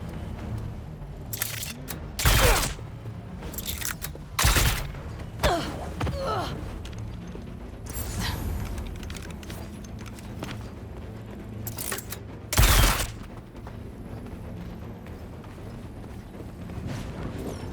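Gunfire in the video game Marvel's Spider-Man 2: a few loud, sharp shots at irregular intervals, with smaller cracks between them, over a low game background.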